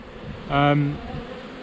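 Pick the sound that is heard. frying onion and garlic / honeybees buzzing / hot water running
honeybees buzzing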